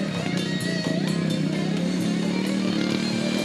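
A monster truck engine roars wide open in second gear at a truck show, a loud, steady, harmonically rich drone held throughout without any talk.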